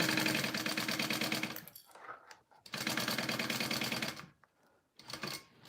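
A sewing machine stitches a Sakura Mini Pouch in close, loud bursts of rapid rhythmic needle clatter, with short pauses between runs and no voices.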